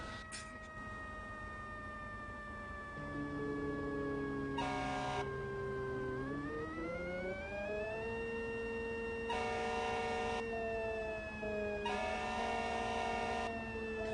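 Loud wailing emergency vehicle siren tones with a Rumbler sweep up and down continuously in a video game, with layered pitches and periodic bursts of harsher honking, steady throughout.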